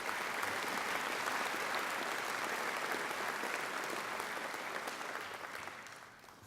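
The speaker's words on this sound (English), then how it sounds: "They deserve a great round of applause too." A large audience at a graduation ceremony claps for the alumni volunteers, a thick, even wash of applause that thins and fades toward the end.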